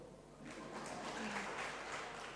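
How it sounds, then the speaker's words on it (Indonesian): Audience applause during a church sermon, clapping that swells after a brief quieter start and stays fairly steady, moderately loud with a faint voice underneath. "Tepuk tangan dong."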